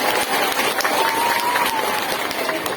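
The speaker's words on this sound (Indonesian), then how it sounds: "saya minta tepuk tangan dulu kangge panitia yang berjuang luar biasa" At a large religious gathering, the audience claps for the organizing committee in a dense, steady wash of applause that runs loud and unbroken throughout.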